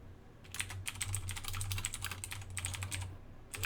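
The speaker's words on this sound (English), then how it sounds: "what is all this typing?" Rapid typing on a computer keyboard in a quiet room during a tabletop Dungeons and Dragons game session, a steady stream of light clicking keystrokes with brief pauses, fairly faint over a low hum and with no talking.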